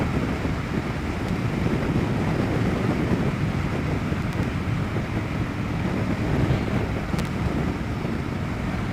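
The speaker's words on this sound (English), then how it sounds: "It is windy as all get out today" Strong wind roaring over the microphone while riding a Harley-Davidson Dyna motorcycle, a constant loud buffeting rumble with no talking.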